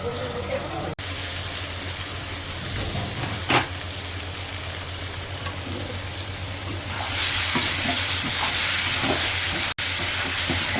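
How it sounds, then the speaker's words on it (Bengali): Prawns sizzle and fry in oil in a pan as their water cooks off. A loud, steady hiss continues throughout and grows brighter and stronger in the last few seconds. "চিংড়ি মাছটা কষা হচ্ছে, এর মধ্যে ঝিঙে দেওয়া হবে, একটু জলটা মরে গেলে তেল তেল হয়ে যাবে"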